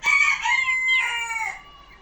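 A rooster in a chicken coop lets out a long, loud, close-up crow that wavers and breaks partway through, with no talk over it.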